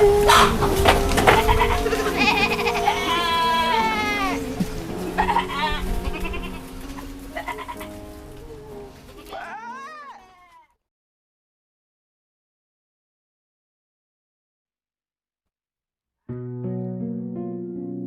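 Goats in a goat pen bleat repeatedly, loud and close with overlapping wavering cries, then stop into silence before a few more calls return near the end.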